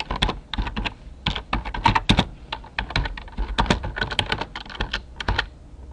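Fast, steady typing on a computer keyboard while editing a text box in Microsoft Word 2007, a dense stream of close, crisp key clicks with no talking.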